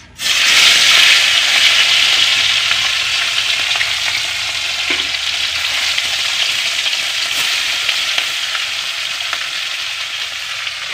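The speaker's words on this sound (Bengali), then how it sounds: "আমার উনুনে তেল গরম হয়ে গেছে কড়াইতে আমি দিয়ে দেবো মাছ" Loud, continuous crackling sizzle of fish frying in hot oil, starting abruptly and holding steady throughout with no voices.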